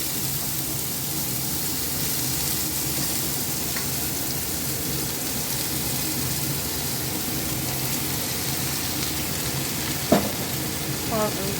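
Washed, drained ash gourd sizzles in a hot wok with cloves, a steady close crackling fry throughout with a couple of brief stirring clatters near the end.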